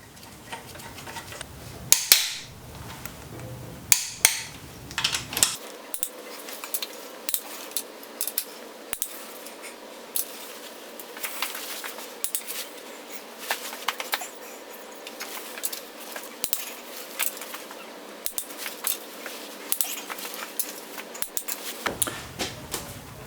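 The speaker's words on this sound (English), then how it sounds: "I'm going to tighten these up and torque them in" A torque wrench tightens engine head bolts on a Ford Ranger truck in a garage, giving a series of sharp metallic clicks and ratcheting taps at irregular intervals, close and moderately loud against a quiet background.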